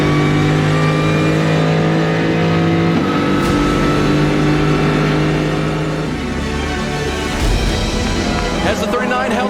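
Audi GTD race car engine roaring at a Detroit race, loud and close, revving and shifting with a clunk near the end, under a commentator's excited speech.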